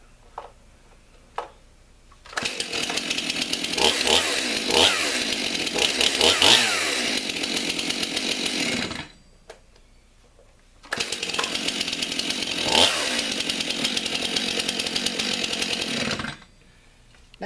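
A Stihl MS 291 Farm Boss chainsaw runs loud and close in two long bursts of steady revving, separated by a brief pause, with a few faint knocks and clicks before it starts.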